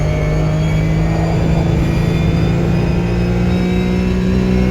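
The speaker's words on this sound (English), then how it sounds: "Not as whistly as the Mercedes, but definitely got that turbo thing going on, doesn't it?" A turbocharged race car engine pulling hard, a loud, steady droning roar with rising harmonic whine from inside the car, no speech.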